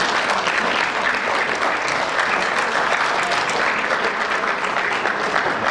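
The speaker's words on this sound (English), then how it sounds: "큰 박수 주십시오." Loud, sustained applause from an audience at a Korean community event, steady dense clapping filling the whole stretch without a break.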